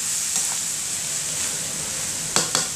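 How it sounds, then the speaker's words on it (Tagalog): Sausage fries in a pan for spaghetti sauce, giving a steady, close sizzle throughout, with a couple of sharp stirring clicks near the end. "Kung piniprito, anong version ko ng spaghetti ko, piniprito ko mabuti ang sausage"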